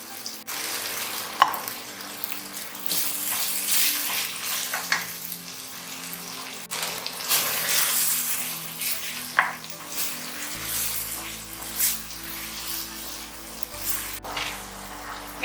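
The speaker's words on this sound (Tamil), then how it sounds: "இப்போ காயெல்லாம் நல்லா வதங்கி வந்த நேரம்" Beans, carrot and peas sautéing in hot oil, an irregular crackling sizzle that rises and falls with bursts of stirring and occasional clinks against the pan, no voices.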